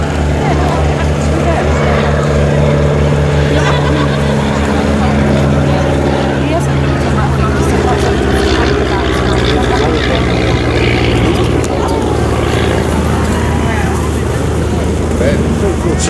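A fabric-covered propeller aircraft with its flaps extended flies at an air festival, its engine drone and propeller hum loud and steady, and someone commentates over it.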